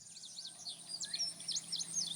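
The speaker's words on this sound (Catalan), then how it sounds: "Podrem escoltar ple d'ocells que venen a beure aigua a la bassa" Small birds in a museum garden beside a pond chirp and tweet continuously, a steady busy chorus of bright high calls at moderate distance with no voices.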